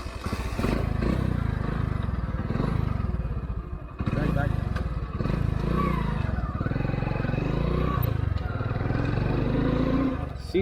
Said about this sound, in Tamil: புல்லட்டே ஸ்டார்ட் பண்ணிடுறேன்.